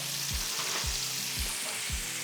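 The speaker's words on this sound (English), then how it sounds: "We're gonna go ahead and add our butter" Butter sizzles and fizzes in a frying pan beside steak, a steady close hiss broken by several regular low thumps, with no talking.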